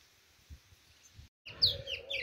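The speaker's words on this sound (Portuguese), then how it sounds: "Mas o passarinho cantou bem no mato, vocês viram aí." A white-throated seedeater sings in the bush, a few short, high chirping notes in a brief burst after a quiet gap, heard close over faint background rustle.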